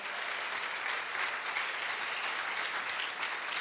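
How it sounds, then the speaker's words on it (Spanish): A church congregation breaks into sustained applause during a Spanish-language sermon, a dense, steady clapping that fills the whole stretch at full loudness with no talk over it. "Amado, eso merece un aplauso."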